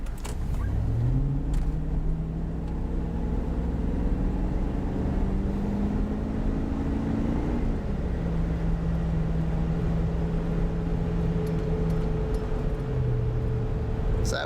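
A 2003 Cadillac Escalade with a 4L65E automatic fitted with a shift correction kit pulls away under part throttle, a steady engine drone climbing in pitch and dropping back at a couple of gear changes, heard from inside the vehicle.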